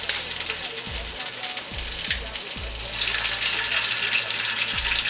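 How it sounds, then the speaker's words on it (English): Steady, close sizzle of an egg frying in a pan over sautéed onions, with a constant hissing crackle and a few faint low knocks. "Go ahead and drop our egg in."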